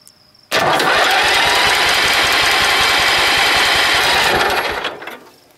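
A Vietnam-era M274 military Mule engine cranks for a compression test, a loud, rapid, even chugging of the starter turning it over for about four and a half seconds before winding down and stopping, close by with no talk.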